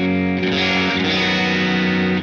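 A loud, sustained electric guitar chord through a Korg TNB-1 Tone Booster with the drive turned up, crunchy and saturated with heavy overdrive, ringing steadily for about two seconds before cutting off.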